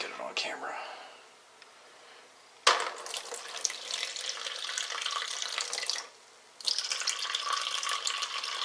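Beet kvass straining through a coffee filter, a steady liquid trickle in two long stretches broken by a sharp start and a brief lull, with soft speech.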